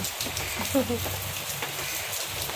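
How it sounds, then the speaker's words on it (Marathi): Steady, dense hiss of heavy monsoon rain falling continuously in Vasai, with a voice speaking briefly underneath. "आणि आज पाऊस भरपूर आहे."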